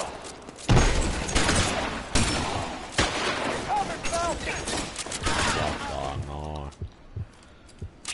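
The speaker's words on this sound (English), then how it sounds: "I've been involved in a shooting." Gunfire in L.A. Noire: a string of sharp, loud shots in uneven bursts, some close and cracking, with clatter and impacts between them and a voice briefly heard near the end.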